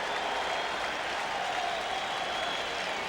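A baseball stadium crowd at a 1992 ALCS Game 6 between the Oakland A's and the Toronto Blue Jays cheers and claps in a continuous, distant roar that stays even and unbroken throughout.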